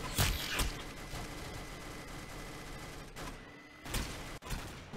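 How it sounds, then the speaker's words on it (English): A heavy gun fires in Roblox Arsenal, sharp bursts of shots at the start and again near the end, separated by a stretch of mechanical clatter at low level, with no talk. "it takes so long for the gun to start actually shooting"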